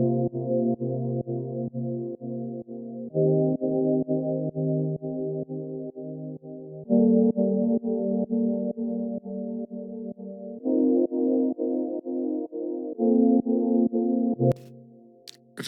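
Sustained synth chords voiced with an extra high note, changing every few seconds in a slow steady progression, loud and clean with no talking, ending on a short sharp click.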